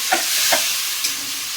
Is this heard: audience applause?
no